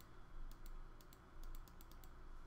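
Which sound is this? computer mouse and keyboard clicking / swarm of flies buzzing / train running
computer mouse and keyboard clicking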